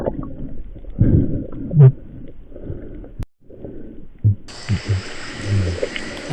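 Low, throbbing croaks and grunts from a fish pulse irregularly underwater on a Philippine spearfishing dive, close and fairly loud, with a brief muffled gap and then a hiss of bubbling water noise.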